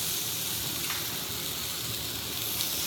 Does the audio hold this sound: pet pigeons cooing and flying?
no